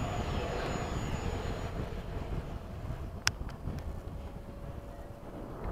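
An F/A-18 jet takes off, a continuous broad roaring rush with wind buffeting the microphone, steady and fairly loud throughout, with a brief sharp click midway.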